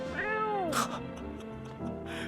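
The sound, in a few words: cat meowing in No, I'm Not a Human video game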